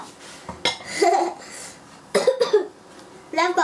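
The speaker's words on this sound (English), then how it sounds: "Now I've got a bad cough." A person coughs in short harsh bursts, three separate fits spaced apart, close to the microphone in a kitchen where samosa filling and potatoes are being cooked.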